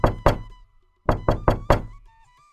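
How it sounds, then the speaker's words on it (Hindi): Knocking on a wooden door: two sharp raps, a pause, then four more in quick succession, loud and close, with no other sound. "तभी दरवाजे पर दस्तक हुई।"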